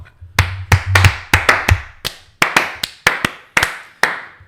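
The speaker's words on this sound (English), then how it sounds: "A round of applause." A small group claps in loose, uneven bursts, sharp close hand claps spaced irregularly over a few seconds, with no talk.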